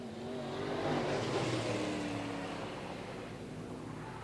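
Late model race cars roaring around Archerfield Speedway during a feature race at night, a distant, sustained engine drone that swells as the pack passes and then slowly fades, heard alone.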